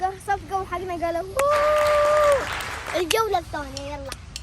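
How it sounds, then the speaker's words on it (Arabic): A short burst of applause from people on a beach, clapping for about a second amid children's voices and talk before and after. "صفقوا حقنا"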